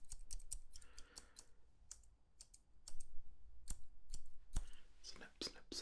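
Small fine-tuning scissors snip close up in a quiet setting, a run of crisp, irregular clicks and cuts with soft low murmuring behind them.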